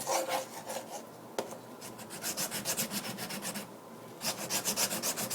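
A knife blade rubbed back and forth on a clogged whetstone with slurry, rapid rhythmic rasping strokes in bursts with a brief pause, close and fairly quiet.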